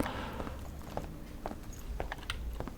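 Footsteps in the tactical shooter Ground Branch, a steady series of crisp crunchy steps roughly every half second, fairly close, over a soft background ambience.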